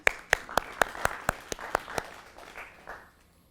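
A New Year celebration audience claps along before a song, about nine sharp, rhythmic claps in unison that fade away into quiet.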